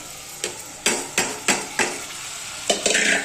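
Rice frying in a spiced tempering sizzles softly while a metal spoon scrapes and knocks against the pan in several distinct strokes, close and loud, with no speech.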